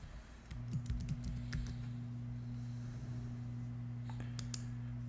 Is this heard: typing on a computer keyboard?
yes